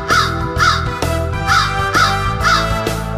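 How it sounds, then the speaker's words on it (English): A big black crow caws loudly and close by, with about six harsh, evenly spaced calls in a steady rhythm and nothing else underneath. "big black crow sitting on a tree. What are you squawking about?"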